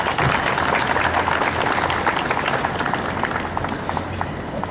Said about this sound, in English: Please give a round of applause to Ms. Gulnaz.